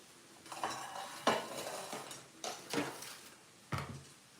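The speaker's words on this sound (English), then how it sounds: "whisk the eggs" A whisk clatters against a bowl as eggs are beaten in a home kitchen, several loud close strokes in an uneven rhythm with no talking.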